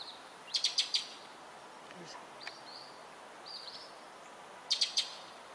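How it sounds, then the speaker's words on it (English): Short bursts of high bird chirps sound in the distance, a cluster early on and another near the end, over quiet outdoor background noise. "You can hear all the birds in the background."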